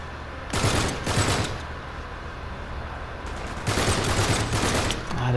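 Bursts of enemy gunfire in the video game Uncharted 3, two loud volleys of rapid shots separated by a quieter stretch of background rumble.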